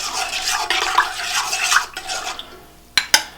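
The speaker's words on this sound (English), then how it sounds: "I'm going to give this a good stir." Spoon stirring a cool bread dough mixture with honey and softened butter in a bowl, scraping and sloshing in uneven strokes, then a pause and a couple of sharp clinks against the bowl near the end.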